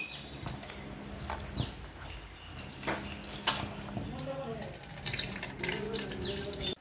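Tap water runs and splashes while ash gourd and taro are gently rinsed by hand, a continuous close trickle with scattered splashes and handling sounds, faint bird calls in the background.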